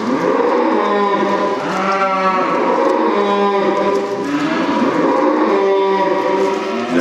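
Cows in a paddock near a farm building mooing over and over, several animals calling loudly and close for the whole stretch, with overlapping lowing and no talk.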